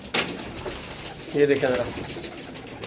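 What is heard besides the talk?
pigeons cooing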